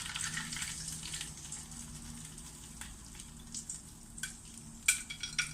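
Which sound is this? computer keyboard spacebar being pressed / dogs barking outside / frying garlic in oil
frying garlic in oil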